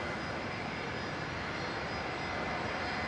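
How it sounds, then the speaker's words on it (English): A C-17 military transport aircraft passes near an airfield, its engines making a steady, fairly distant broadband roar that holds constant throughout. "And the C-17 is behind. Now that has begun its descent"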